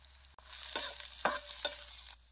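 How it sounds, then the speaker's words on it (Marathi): Kharda spice paste with onion and turmeric fries in oil in a brass pan over a wood-fired stove, giving a soft steady sizzle broken by a few sharp scraping stirs. It is close and carries no talk. "आता हे तेलात सगळं कसं चांगलं भाजलंय बघा."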